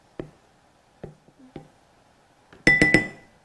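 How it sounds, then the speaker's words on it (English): A spoon stirring strawberry ice cream custard in a bowl, with a few sparse, close clinks and taps against the bowl, then a louder cluster of rapid ringing knocks near the end. "Give this a nice stir."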